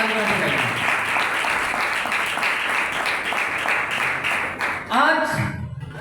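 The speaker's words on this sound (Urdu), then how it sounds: "میں چاہوں گا کہ میری ٹیم کے لیے بھی ضرور حوصلہ افزائی کے طور پہ یہ تالیاں بجائیں" A congregation at a sermon in Karachi breaks into sustained, loud applause that fills most of the moment, then fades as a voice begins speaking near the end.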